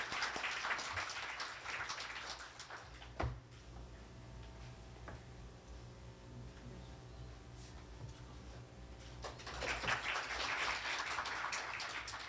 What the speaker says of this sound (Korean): 박수 해주시겠어요?